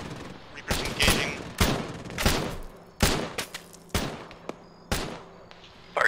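Gunfire in the Arma video game during a ShackTac squad operation, irregular sharp shots and short bursts at varying distances, some echoing, spaced across the clip.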